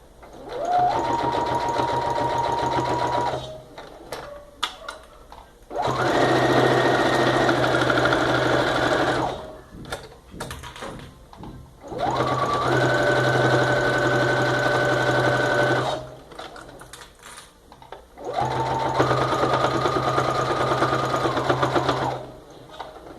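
Sewing machine stitching a seam on a fabric toiletry bag, four steady whirring runs of several seconds each separated by short pauses with handling clicks, close and clear.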